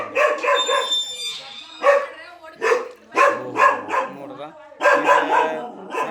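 A pet dog barks in repeated short bursts near a house where a cobra was trying to get in, with people talking over and between the barks.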